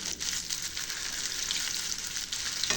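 Bread gulab jamun balls fry in hot oil, giving a steady, soft sizzling hiss with small bubbling crackles, alone and fairly quiet throughout.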